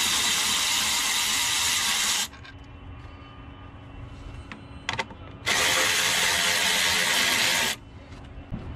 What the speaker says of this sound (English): now that you got those two 10mm bolts out